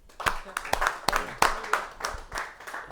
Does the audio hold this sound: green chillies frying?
no